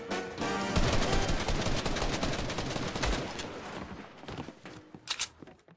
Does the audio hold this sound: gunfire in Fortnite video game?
yes